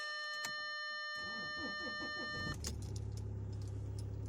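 An Audi A6 2.0 TDI in frozen, damp winter weather: a tonal dashboard chime gives way to a rhythmic, labouring starter crank that does not catch, followed by a steadier whir, all close up.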